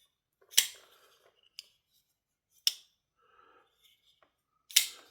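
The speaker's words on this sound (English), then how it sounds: "Very smooth, hydraulic, drop shut action." A Twosun TS463 folding knife's blade drops shut, giving sharp metallic clicks: three loud snaps spaced a couple of seconds apart, with smaller ticks between, close up in a quiet room.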